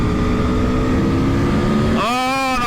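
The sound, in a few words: Aprilia Tuono V4 1100 motorcycle engine accelerating while riding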